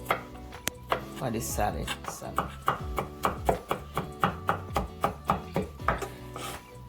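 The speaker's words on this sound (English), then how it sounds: "Just chop them as fine as you can." Garlic is being chopped finely with a knife on a board, a brisk run of sharp, regular taps that speeds into an even rhythm while a voice talks briefly over it.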